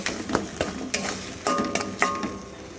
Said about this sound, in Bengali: খুব ভালো করে নাড়াচাড়া করে এর সঙ্গে একটু মিশিয়ে নেব